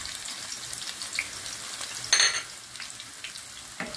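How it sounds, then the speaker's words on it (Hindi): Finely chopped onion frying in hot oil in a pan for a tadka to top haleem, a steady close sizzle with occasional louder crackles and spatters, no talking. "एक प्याज ली है, उसको इस तरह बारीक काट के फ्राई करके इसका बघार देंगे हलीम में।"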